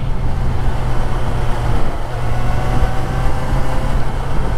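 A 2010 Yamaha FZ6R motorcycle being ridden, with a loud, steady engine drone and heavy wind rush close up, no voices.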